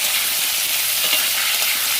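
Bengali jhol curry cooks in a pan on the stove, giving off a steady, close hiss of sizzling with no talking over it.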